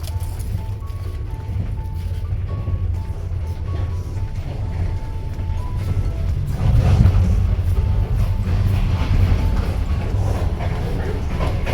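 Steady low rumble and rattle of a moving passenger train heard from inside the carriage, constant throughout and swelling slightly louder in the second half, with no talking.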